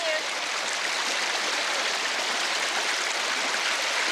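A brook near waterfalls rushes steadily in a broad, unbroken hiss of flowing water, loud and close throughout with no voices.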